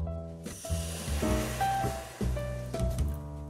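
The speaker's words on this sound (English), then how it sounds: "Once the white sugar has melted, turn off the heat, pour in the remaining water" Water poured into hot melted white sugar in a pan hisses and sizzles steadily for about three seconds, with a broad rushing sound over a low background.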